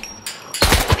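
Gunfire in the video game Scum rips out as a loud, close burst of rapid shots aimed at a zombie, after a brief quieter lead-in.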